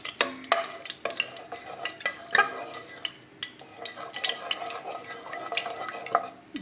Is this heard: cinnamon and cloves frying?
yes